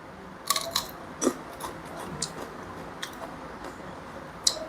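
Someone bites into a doenjang-pickled chili pepper, giving several crisp, close crunches and clicks spread unevenly over a few seconds in a quiet room, with no talking.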